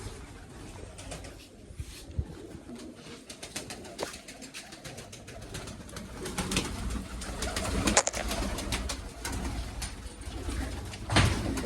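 Domestic pigeons cooing softly while being fed maize grain, scattered low coos and faint rustles and taps, fairly quiet and close with no talk.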